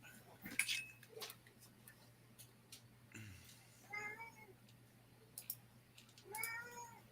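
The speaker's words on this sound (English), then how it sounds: "It sounds like somebody's got a kitty there. It's wanting some attention." A cat meows several times in short, rising and falling calls, faint and somewhat distant, with a few light clicks in a quiet room.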